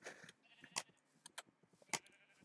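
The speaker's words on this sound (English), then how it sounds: "Don't mind me, just running with some sheep." Sheep bleat in the Minecraft video game: several short, quiet bleats come in quick succession with brief gaps between them, and no talk is heard.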